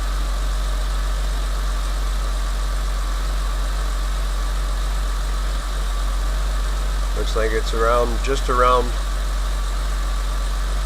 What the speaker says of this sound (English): However, right now, it's idling.